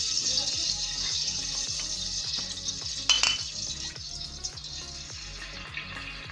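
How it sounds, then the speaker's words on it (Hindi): A cup of oil hisses and sizzles steadily in a hot pot while cooking jaggery rice, with a brief splash and clink of metal partway through and a low hum beneath. "1 कप हम ऑयल डालेंगे अब इसमें।"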